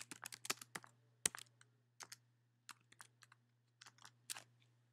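Computer keyboard typing, quiet irregular clicks and taps in short clusters at close range, with a faint steady hum underneath.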